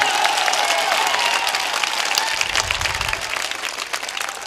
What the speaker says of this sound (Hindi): उठकर जोरदार तालियां बजाए अपने चेयरमैन साहब के लिए।